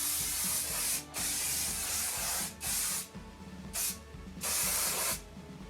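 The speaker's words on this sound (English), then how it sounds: "I like to put in extra hairspray just before I take it out" Hairspray is sprayed onto styled vintage curls in several long hissing bursts separated by brief pauses, close and loud.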